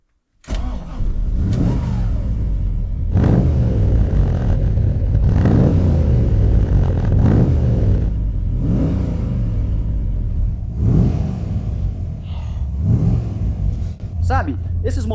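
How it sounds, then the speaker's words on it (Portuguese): A De Tomaso Pantera's 351 Cleveland V8 is revved repeatedly, close and loud, each throttle blip swelling into a rumbling roar before falling back to a steady idle. "esses motores V8 de Cleveland, eles podem ser bem comuns"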